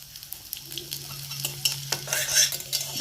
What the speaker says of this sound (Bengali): কিছু পাঁচফোড়ন একটু ভেজে নেব